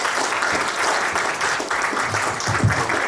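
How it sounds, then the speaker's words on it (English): Steady applause from an audience at a banking industry CXO incubator event, dense and continuous clapping filling the room for about three seconds with no talk over it. "With a round of applause, let's welcome Mr. Pramod."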